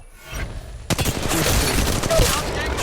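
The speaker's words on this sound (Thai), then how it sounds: "กำลังยิงต่อสู้" Gunfire in the video game Apex Legends bursts in after a quiet start, loud rapid automatic fire that keeps going to the end.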